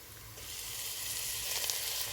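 Onions, ginger-garlic paste and chopped green chilies frying in a pan for a beef dish, giving a steady, close hissing sizzle that swells slightly toward the end, with no talk.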